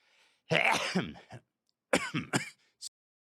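A few harsh, close coughs and throat clears come in two bursts separated by silence, loud and raspy.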